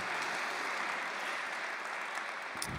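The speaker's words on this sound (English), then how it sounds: "So let's give these guys a round of applause." Steady applause from a community gathering audience, sustained clapping at an even level throughout with no talk over it.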